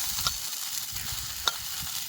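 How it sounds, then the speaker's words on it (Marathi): Drumstick pods sizzling in oil in a hot kadhai, a faint steady frying hiss with two brief sharp clicks of a spoon stirring, no voices. "आता आपण तेल टाकून घेणार आहे शेवग्याच्या शेंगाला मस्त पैकी"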